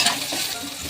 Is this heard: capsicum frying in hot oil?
yes